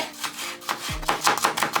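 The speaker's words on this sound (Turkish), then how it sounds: "Yeşil biberleri doğruyoruz yemeklik olacak şekilde." A knife chops green peppers steadily on a cutting board, a quick series of crisp taps, close by with no talking.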